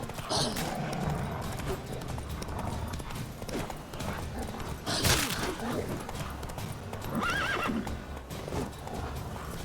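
Roach the horse in The Witcher 3 gallops with rapid hoofbeats, and a loud whinny and snorts rise over them, all under a busy game soundscape.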